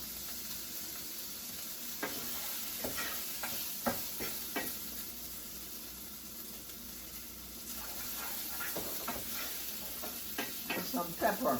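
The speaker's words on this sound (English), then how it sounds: "You keep mixing the rice." Rice is stirred in a pan over a quiet sizzle, with soft scraping strokes that come in irregular clusters and a few louder scrapes toward the end.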